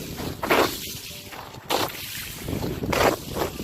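A boot kicks ice on a frozen lake at Mean Lake, producing three separate crunchy, splashy impacts about a second apart over constant outdoor wind noise.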